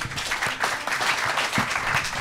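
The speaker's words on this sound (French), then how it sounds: "On peut applaudir Sébastien, Radin." Applause from a seated audience at an evening talk event welcoming a guest, a dense steady patter of clapping filling the room throughout, with faint scattered voices underneath.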